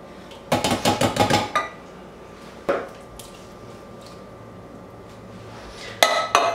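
Two 15-ounce cans of tomato sauce and two 14.5-ounce cans of diced tomatoes are emptied into a crock pot for a doubled chili: a quick run of metallic clanks and taps, then a single knock and a final clatter.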